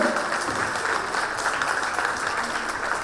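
A crowd of parents and children claps steadily at a preschool annual day event, dense and continuous applause filling the room.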